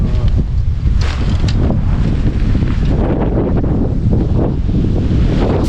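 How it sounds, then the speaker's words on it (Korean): Strong wind gusts roar steadily through a mountain valley campsite near Ulsanbawi, Goseong, on a cold day, buffeting the microphone with a constant low rumble and no pauses. "바람 부는 소리가 들리네."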